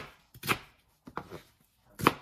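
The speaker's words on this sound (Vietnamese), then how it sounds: "Mình chỉ dùng một nửa củ hành tây, mình cắt ra" Half an onion being cut with a knife on a board, three crisp chopping strokes spaced apart with quiet gaps between them.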